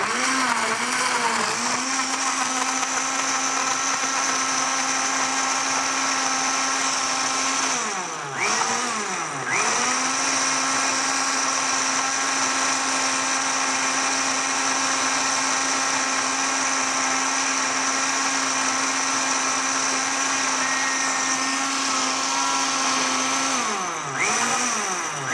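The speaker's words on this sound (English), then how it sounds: "I'll chuck it on the blender." A blender whirs loudly as it blends a smoothie made with almond milk, running in long steady stretches broken by two short pauses where the motor winds down and restarts.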